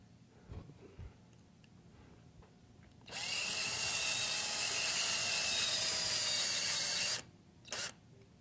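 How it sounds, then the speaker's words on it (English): A power drill drives screws into a DIY speaker driver with one steady, loud whir lasting about four seconds, then a brief second burst after a pause. "I'm paying pretty close attention here to how far I'm putting the screws down in"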